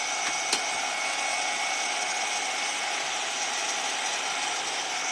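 A craft dryer blows steadily while drying an artist trading card with a bird design, making a constant loud whirring hiss with one brief click near the start.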